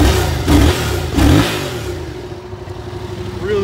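A Yamaha FZ-07 motorcycle, a 2016 model, idles close by with a steady engine hum, and the throttle is blipped twice in quick revs early on before the engine settles back to idle.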